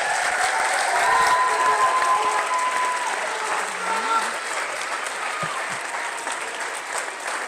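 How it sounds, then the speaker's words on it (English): Sustained crowd applause for athletes at a winter signing day ceremony, a steady wash of clapping that carries through the whole stretch with some voices mixed in. "And one more round of applause for our athletes."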